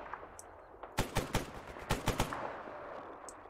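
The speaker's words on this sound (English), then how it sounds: "Someone's shooting at us, but I'm not sure where from." Gunfire in the S.T.A.L.K.E.R. Anomaly video game: two quick bursts of three or four sharp shots each, somewhat distant, over a quiet outdoor background.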